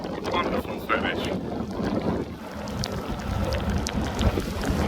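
Wind roars across the microphone and water rushes past as a racing sailboat crosses the finish in the Cowes Torquay Cowes offshore race, a loud steady wash with no clear separate events.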